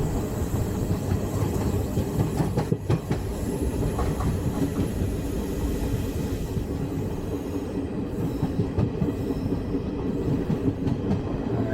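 A train between Shoranur and Kollam rolls steadily along the rails with a continuous rumbling roar and rattling wheels, loud and close, with no voices.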